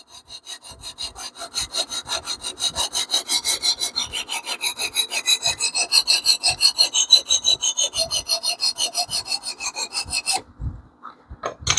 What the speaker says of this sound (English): Do 2 passes with this 140.